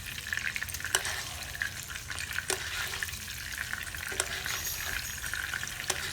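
A ribeye steak sizzles steadily in hot fat in a pan, with a continuous crackling fry and soft spoon scrapes and splatters as the fat is basted over it, no voices.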